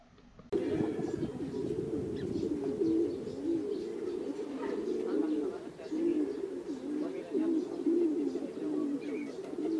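Racing pigeons coo continuously in a steady, overlapping chorus of low, rolling calls, with faint chirps from other birds above them, in Carranglan.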